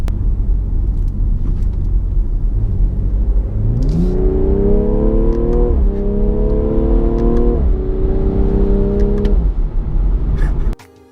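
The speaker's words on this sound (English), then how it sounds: "Let's give this car some gas." A BMW car engine idles with a low rumble, then revs up three times in rising sweeps, loud and close, before cutting off.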